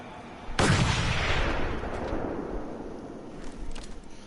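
A sniper rifle shot in the video game Mad Max goes off as one loud, sharp blast near the start, then a long rumbling decay with faint scattered noise behind it.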